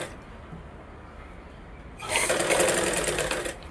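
A sewing machine stitches a blouse lining, starting abruptly after a quiet moment and running as a steady close whirring buzz for the last couple of seconds, no talk.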